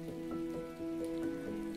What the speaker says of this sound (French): Tu contemples un moment la pluie qui tombe.